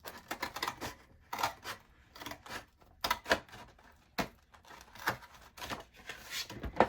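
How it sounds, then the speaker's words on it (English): Cutting through a cardboard tissue box with scissors or a craft knife, giving a series of sharp, crisp snips and crunches in irregular bursts with short pauses between, close up and fairly quiet. "Now I'm going to cut this side right here to open the box up"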